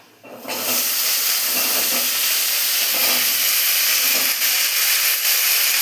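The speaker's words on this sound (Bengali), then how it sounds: "এখন সবজিগুলি দিয়ে দিচ্ছি।" Mixed vegetables hit hot oil in a pan with lentils, bursting into a loud, steady hiss and sizzle that holds strong and close without a break.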